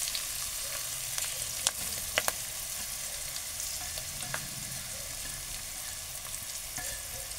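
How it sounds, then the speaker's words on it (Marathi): Onion frying with green chillies in a pan for a red amaranth leaf vegetable dish, a steady close sizzle with occasional sharp crackles and stirring clicks, no talk. "कांदा आपल्याला लालसर होईपर्यंत परतून घ्यायचा आहे."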